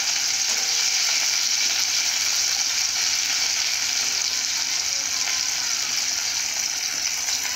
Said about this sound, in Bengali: তো তার জন্য আমি উচ্ছেটাকে খুব ভালো করে ভেজে নেব